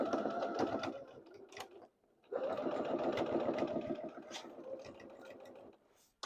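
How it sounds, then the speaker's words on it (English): Sewing machine back stitching while sewing a fabric apron, a close rapid whirring run that stops briefly then resumes for several seconds before trailing off. "I am going to back stitch a few times here"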